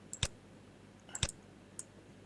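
A computer mouse is clicked in two sharp, close double clicks about a second apart, with a faint tick after them over a low, steady room hum.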